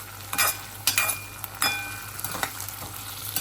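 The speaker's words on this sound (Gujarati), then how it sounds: "તળ્યા છે બટેટા" Potatoes frying in a pan with a steady low sizzle, broken by several sharp scrapes of a spatula stirring them.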